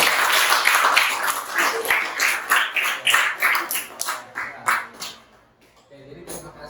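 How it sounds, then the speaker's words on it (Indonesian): Classroom applause for student groups who have just presented, a burst of many hands clapping that rises and swells, then thins out and fades toward the end, with speech present. "Kita beri tepuk tangan dulu."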